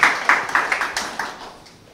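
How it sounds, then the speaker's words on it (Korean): Audience applause welcoming a business school dean at a university startup event, a burst of sharp hand claps that starts loud and fades away over two seconds, with no talking over it. "박수로 모시겠습니다."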